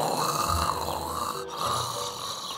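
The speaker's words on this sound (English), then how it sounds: "snoring loudly enough to make his shed tremble" A cartoon character asleep in a garden shed snores loudly, a continuous rumbling snore with slow swelling rhythm over a dense, full background.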